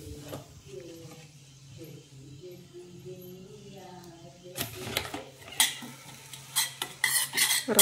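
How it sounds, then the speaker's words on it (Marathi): Semolina is roasted in a pan, first under a low hum and a voice, then with loud, close, irregular scraping and clinking of a spoon stirring against the metal pan in the second half. "रवा भाजून घ्यायचा आहे."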